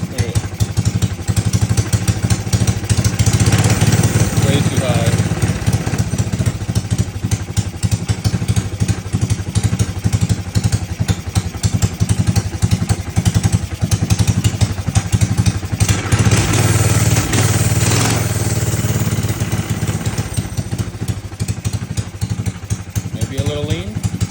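A Coleman minibike engine runs steadily at idle close by, a continuous loud, rough drone with a fast throbbing pulse and some clatter throughout.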